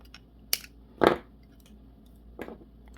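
Sharp crunching snips of scissors cutting through 3D print filament material during an upper cover assembly, a few distinct cuts spaced irregularly, close and fairly quiet.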